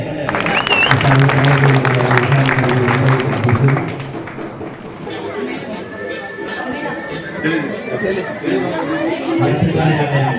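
A crowd gathered for a shop inauguration in Mukkam, Kozhikode: a dense murmur of many voices and chatter with scattered taps and clapping, louder at first and then a steady hubbub throughout.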